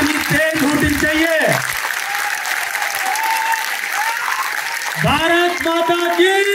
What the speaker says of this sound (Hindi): एक बार दोनों हाथ ऊपर करके जिसके ठीक ठाक हो जोरदार ताली बजाइए